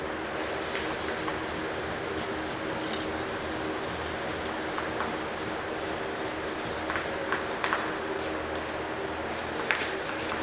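Hand sanding wood with fine 400 grit sandpaper: a steady, continuous close-up rubbing hiss with small scratchy accents, heard alone without talk.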